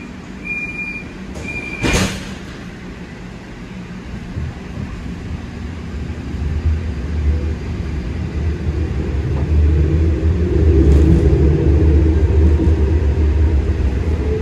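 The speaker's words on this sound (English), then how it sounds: "Train is about to move." LYNX Blue Line light rail train departing, with a chime and door sounds at the start, then a low rumble that swells steadily as the train gathers speed.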